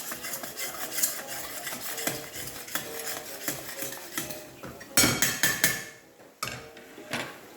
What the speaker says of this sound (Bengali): আমি সামান্য একটু গরম জল দিয়েছি, দিয়ে আর একটু কষাচ্ছি